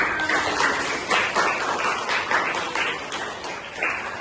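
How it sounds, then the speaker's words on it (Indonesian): A classroom of children claps for Raffi in a loose, rhythmic burst of hand claps, moderately loud and repeating roughly twice per second. "Tepuk tangan untuk Raffi."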